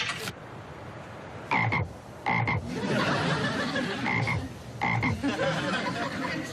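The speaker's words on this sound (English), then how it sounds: "this is my frog, Jumpin' Jack Flash." A frog croaks in repeated raspy bursts of about half a second, spaced a second or two apart and fairly close, over a noisy indoor background.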